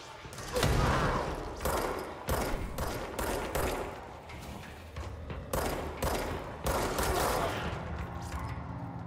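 Gunfire in the video game Control comes in bursts, with repeated sharp shots and rapid volleys spread across the stretch and sparse gaps between them. Voices may talk faintly underneath.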